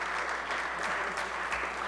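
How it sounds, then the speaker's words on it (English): Members in the New York State Senate chamber give a colleague a brief round of applause, a steady wash of many hands clapping at moderate volume for about two seconds. "So let's give him a round of applause."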